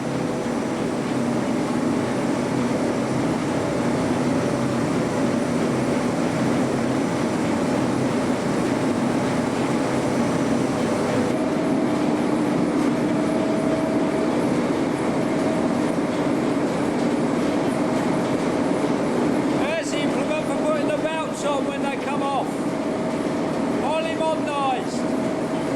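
Big electric motor driving the line shafts of Ramsgate windmill, a steady loud mechanical drone with rattling, rhythmic clatter joining later, with people talking over it.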